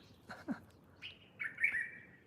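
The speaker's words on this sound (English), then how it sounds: "I hate the little bird. Yeah, it's right up there." Small bird in Rwanda giving a few short, bright chirps close by, a couple of quick notes followed by a longer trilling call, with no talk.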